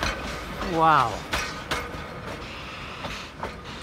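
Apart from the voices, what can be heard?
tourist train passing at Vennesla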